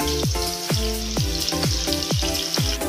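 Onions browning in oil in a handi with garlic paste give a steady, close sizzle and crackle, with repeated rhythmic stirring or scraping strokes about twice a second.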